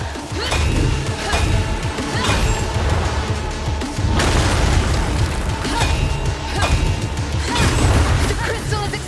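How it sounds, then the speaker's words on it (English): A crystal brimming with raw chaotic energy explodes in the action game Soulstice, sending out a run of loud, crashing blasts about every two seconds over a continuous rumbling din. "The crystal is exploding!"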